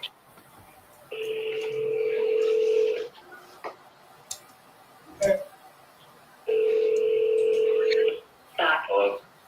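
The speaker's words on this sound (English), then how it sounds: "Your call has been forwarded to voicemail." Telephone tones play on a call being forwarded to voicemail, two long steady tones separated by short clicks and blips, with a brief burst of talk near the end.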